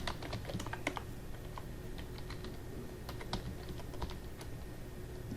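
Clicking on a computer keyboard while text is entered in Microsoft Word 2013, heard as quiet, close keystrokes in irregular bursts and pauses, with no voices.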